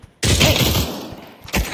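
A sudden burst of rapid gunshots in the VR shooter Pavlov, a loud close volley lasting about a second, then a short pause before another sharp burst begins.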